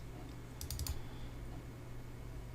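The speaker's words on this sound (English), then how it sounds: "We're just going to double click on it." A computer mouse double-clicks to open a readme text file on a Windows PC, two quick faint clicks close together over a low steady hum.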